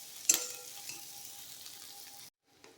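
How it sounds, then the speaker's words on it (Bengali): Spices and bay leaves frying in hot oil for a fish curry: a sharp crackle at the start, then a soft steady sizzle close by that stops abruptly near the end. "মশলাটা একটু ভালো করে ভেজে নেব"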